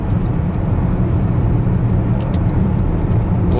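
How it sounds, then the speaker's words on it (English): A 1997 Lincoln car drives along a street, its engine and road rumble loud and steady from inside the cabin as it accelerates. "we'll turn the corner here and get some more acceleration here"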